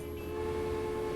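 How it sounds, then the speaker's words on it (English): A train running in the video game Transport Fever, a steady sustained tonal hum like a horn or engine drone, loud and unbroken. "Let's just watch this train."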